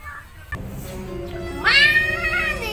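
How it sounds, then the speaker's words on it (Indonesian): A feral cat gives a single drawn-out, loud meow after a short knock, ringing clearly over a low background hum in a village setting. "kucing yang liar"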